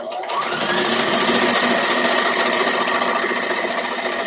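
A sewing machine stitches the straight side of a fabric band while drafting a pattern. Its fast, steady, even whirr runs loud and close for the whole stretch.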